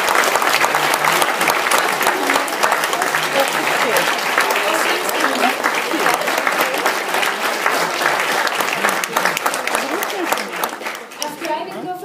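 A school audience at a 1 December show applauds the lighting crew, sustained dense clapping that carries on strongly and tapers slightly near the end, with some voices among it.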